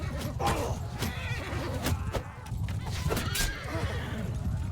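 Horses neigh and whinny repeatedly amid a cavalry battle in Bannerlord, with hoof clatter and combat noise running steadily underneath at moderate loudness.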